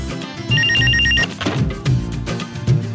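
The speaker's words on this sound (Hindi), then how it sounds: "अरे फोन की आवाज नहीं आ रही?" A mobile phone rings in short electronic trills, two bursts close by, with background noise and rustling around it.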